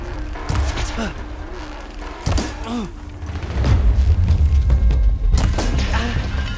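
Gunfire in Horizon Forbidden West: heavy booming shots and thuds in scattered bursts amid a noisy battle, with rumbling impacts and shouting voices over the fire.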